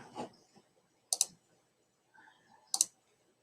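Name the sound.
mouse clicking on computer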